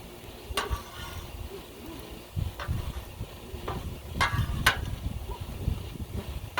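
Smashed potatoes and vegetables frying on a Blackstone griddle, a soft ongoing sizzle broken by scattered scrapes and clicks of a spatula, close and moderate in level.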